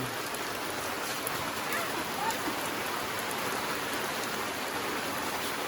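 Steady, even rainy-season rain in the mountains of Guatemala hisses without a break, a dense wash of drops falling nearby at constant loudness.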